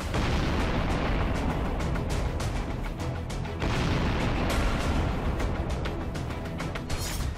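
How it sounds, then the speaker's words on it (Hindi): Explosions and artillery blasts in war-torn Ukraine come as a dense, loud barrage of repeated booms and sharp bursts, stacking closely one after another with hardly a pause and no voices. "धमाकों से डरता डोनेस्क"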